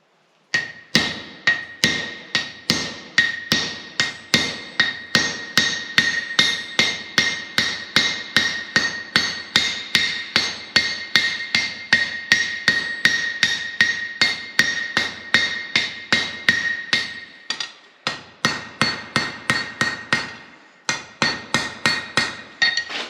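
Steel rings under a hammer on an anvil while bolt jaw tongs are forged, a long steady run of loud, close, bright metallic strikes with a few short pauses.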